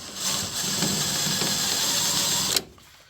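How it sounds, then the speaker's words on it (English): A steady mechanical whirring grind of a larger drill bit deburring a drilled hole in metal, close and continuous, cutting off abruptly near the end. "Take a next size drill bit and just go, okay, and just deburr it."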